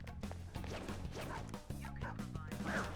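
Puppy-like Shadow dog from Persona 5 Royal barking amid game sounds, with repeated yips and bow-wow barks over a busy background of music and impacts.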